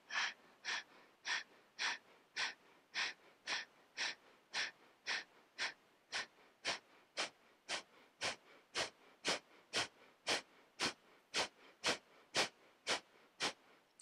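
Breath of fire yoga breathing: a steady run of about twenty-five quick, forceful nasal exhales with an even rhythm, close and fairly soft, with no speech.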